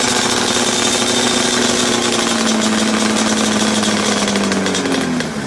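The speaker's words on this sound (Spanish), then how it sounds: "tenemos aquí un vídeo calentando la moto. La estáis escuchando y es una maravilla" A replica 250GP two-stroke racing motorcycle engine warms up, holding a loud, steady, raspy buzz throughout with a slight pitch sag near the end before it eases off.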